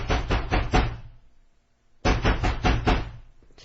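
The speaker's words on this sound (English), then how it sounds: "He began banging loudly on the door at 6:40 p.m." Loud, heavy banging on a condo door comes in two rapid bursts of several knocks each, close and forceful, with a short silence between the bursts.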